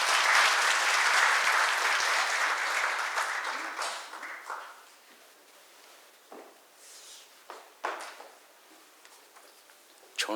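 Loud applause from a seated audience at a Korean healthcare labor-management meeting, dense clapping for about four seconds that thins into scattered claps, then quiet with a few isolated claps and shuffles.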